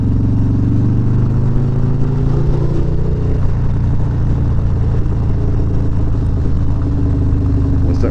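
Harley-Davidson motorcycle rides along a road, a loud, close, steady engine drone with shifting pitch and wind rush, no speech.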